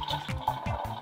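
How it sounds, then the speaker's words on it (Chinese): Water runs from a toy coffee machine in a continuous close trickle, with faint rhythmic mechanical pulses underneath. "要放进水，水就开始出来"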